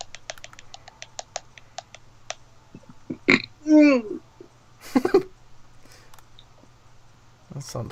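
A person lets out a loud, drawn-out burp at close range, followed by a shorter second belch, with scattered clicks and faint background hum around them.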